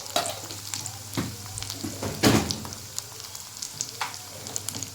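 Corn chivda sautés with turmeric in a pan, giving a quiet steady sizzle broken by a few scraping stirs of a spoon.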